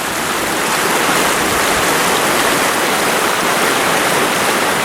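A river rushing over huge rocks in wooded Western North Carolina mountains, a steady, loud, broadband roar of flowing water that fills the whole span without pause.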